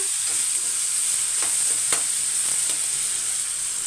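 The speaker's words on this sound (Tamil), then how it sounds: "வெங்காயம் வந்து பாதி வதங்கினா போதும்" One large onion sizzles in a pan, a steady close frying hiss with a few soft scrapes as it is stirred, alone without talk.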